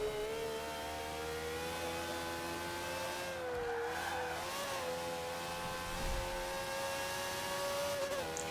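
A racing car engine in a driving video game holds a steady, high-pitched whine that dips and climbs with throttle changes, staying loud and close with no talking.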